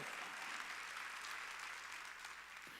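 A church congregation applauds during a Korean Wednesday worship service, a dense, steady wash of clapping that holds at an even level throughout, with no talk over it.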